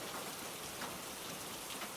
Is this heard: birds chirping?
no